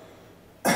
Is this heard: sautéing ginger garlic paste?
no